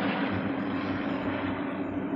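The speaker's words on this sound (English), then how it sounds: "Choppers in the compound." Helicopters fly over a compound, their rotor and engine noise a steady, fairly faint broadband drone throughout, with no voices over it.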